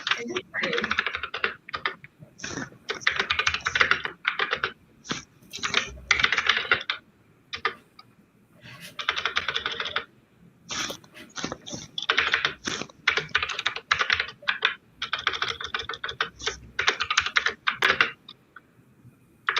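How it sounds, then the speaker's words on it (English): Clicky computer keys clatter in rapid bursts of typing with short pauses between runs, close and crisp, for about twenty seconds; a voice is faintly present at times. "That's a good keyboard."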